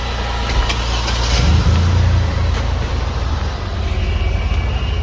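A cheap Porsche 911 drives off, its engine a loud, steady low drone with a brief rise in revs partway through.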